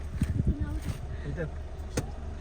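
A car being parked on a trip in the Konkan region gives off a steady low engine rumble, with a brief whir near the end, while several people talk over it.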